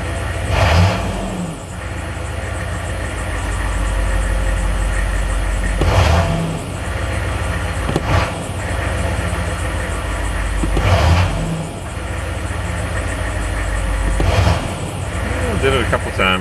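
A car engine idles roughly while only partly warmed up, with a fast, unsteady idle and a few brief surges in revs, heard close by under a voice.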